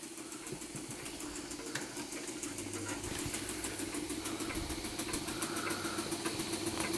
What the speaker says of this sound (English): Weeden's only true beam engine, at least 113 years old, running under steam.